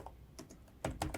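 Quick bursts of computer keyboard typing, a few close, crisp keystrokes, as PowerShell code for a security tool payload is entered.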